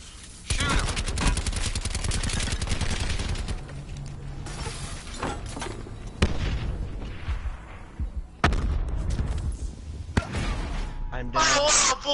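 Rapid gunfire in a multiplayer shooter, dense bursts of automatic shots with several sharp single cracks and glassy impacts spread throughout, loud and close, with voices talking over the action.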